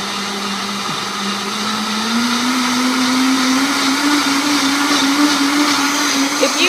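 A Vitamix 300 blender runs a peanut butter, banana and jelly smoothie near a high speed setting, a loud steady motor whine that rises gradually in pitch over several seconds, alone with no talk.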